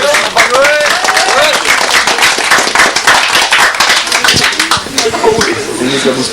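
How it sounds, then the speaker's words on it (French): A live audience at a 1985 motocross gathering claps loudly and raggedly, with dense overlapping hand claps close by and crowd voices and shouts mixed in throughout. "on peut l'applaudir bien fort"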